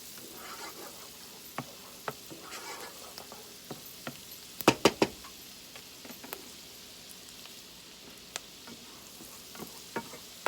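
Steady sizzling and frying in a pan with scattered sharp scrapes and clacks of stirring, including a cluster of louder knocks, as onions brown before wild mushrooms go in for soup.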